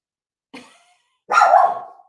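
A dog barks indoors twice, a short soft yip followed by a louder, fuller bark, close by with no talking.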